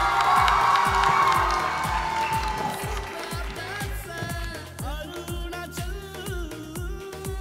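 A crowd at a Bollywood-style dance competition elimination round cheers and whoops loudly over a thumping music beat, the shouts strongest at first and then fading under the steady pounding rhythm.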